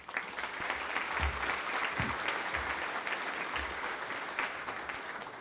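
An audience at a spring general assembly applauds a campus master planning steering committee, with full, steady clapping that holds strong then eases slightly toward the end.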